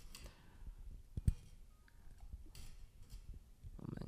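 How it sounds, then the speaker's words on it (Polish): Quiet, close clicks come from the tone switches on a Shure SM7B microphone, with one crisp, distinct snap standing out among faint handling ticks in an otherwise hushed room. "te przełączniki zmieniają nam charakterystykę brzmienia tego mikrofonu"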